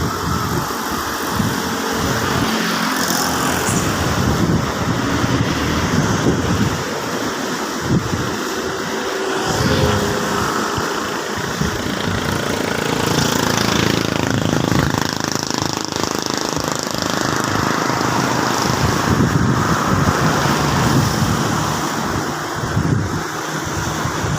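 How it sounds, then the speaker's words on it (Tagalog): A steady roar of surf and rushing water fills the air, with heavy wind buffeting the microphone throughout. "ang lakas ng alon"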